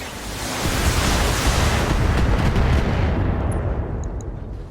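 Mech weapons fire in the BattleTech video game as a dense, sustained roar of explosive barrage that stays loud and continuous across the whole stretch before easing slightly at the end, with no talk.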